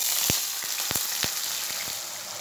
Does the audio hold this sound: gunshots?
no